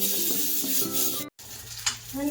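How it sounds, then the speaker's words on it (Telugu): Puris for pani puri frying in hot oil, a loud continuous sizzle close by, briefly cut off by a short gap before the hissing resumes with a light clink. "ఇప్పుడు ఇలా ఫ్రై చేస్తున్నాను చూడండి"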